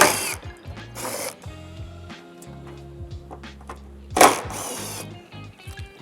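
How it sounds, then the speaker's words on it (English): A ratchet with a 10mm socket loosens plastic nuts under the rear plastic belly panels of a 2019-2021 VW GLI, giving close, loud bursts of rapid clicking separated by pauses, with no talk. "I'm going to use a 10mm socket and remove the 10mm plastic nuts from the rear of these plastic bellies"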